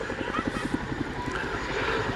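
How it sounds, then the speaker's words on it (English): A Chinook tandem-rotor helicopter flying an airshow display pulling out of hard manoeuvres, its rotors beating a fast, steady waka-waka pulse with a broad engine roar, loud and continuous throughout. "You see now as well from that waka waka waka noise, particularly when he's pulling out at the bottom of these hard manoeuvres."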